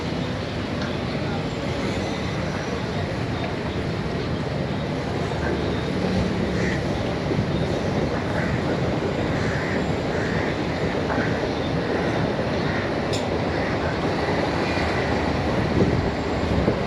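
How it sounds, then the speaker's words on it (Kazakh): Trains run along open railway tracks in Mumbai, a continuous broad rumble mixed with wind buffeting the microphone, steady and fairly loud for the whole stretch with no clear talk. "Мына жақта пойыз жол уже, пойыздар жүріп жатыр."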